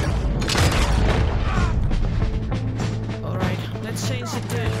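Loud, dense gunfire and booming blasts from a Red Dead Redemption 2 shootout during a bison hunt, sustained throughout with clattering impacts and a low steady hum underneath.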